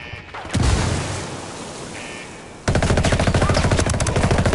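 Gunfire in the tactical shooter Ghost Recon Wildlands: a heavy blast of noise, then a fast, evenly paced automatic burst ringing out loud and near.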